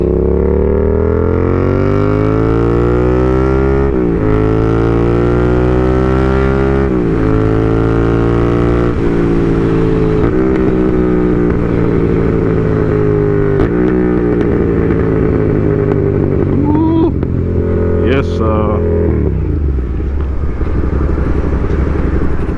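A recently repaired motorcycle, still not fully fixed, roars loudly and close as the rider accelerates through repeated gear changes, the revs climbing and dropping in steady steps before settling toward idle.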